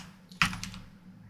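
A single sharp keystroke clatters on a computer keyboard during World of Warcraft Classic play, one close, fairly loud click with a brief rattling tail over quiet room hum.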